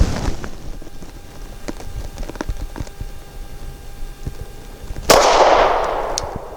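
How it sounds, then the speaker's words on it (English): Canik TP9 Elite SC pistol firing a Blazer 115 grain aluminum-case round, with quiet rustling and small clicks before one loud, close gunshot that rings out and fades. "next up I'm going to shoot the Blazer 115 grain. This is an aluminum case"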